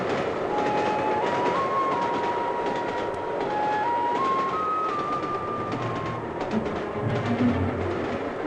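A mountain train in France rolls past with a continuous rumble and rattling wheels, while a high whining tone climbs in steps above the clatter.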